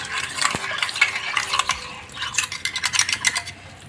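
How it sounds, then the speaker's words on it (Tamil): A spoon scrapes and clatters around a pan of mushroom gravy masala, with quick repeated stirring strokes, close and fairly loud with no talk. "இப்போ இது எல்லாத்தையும் நல்லா ஒன்றா மிக்ஸ் பண்ணி விட்டுக்கோங்க."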